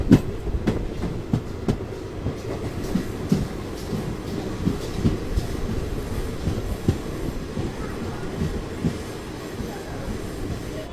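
The Garib Nawaz Express rolling along its rails, heard as a steady rumbling clatter with rhythmic wheel clicks over the track joints, continuous and fairly close, with no talk.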